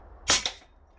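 Single sharp crack of an Anschutz air rifle firing a pellet, loud and close, with a short bright burst and quick decay, no talk.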